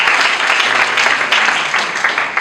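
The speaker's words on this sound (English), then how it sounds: "Let's give a proper round of applause." Loud, dense applause from a graduation audience in Nairobi, many hands clapping close and continuous without a break.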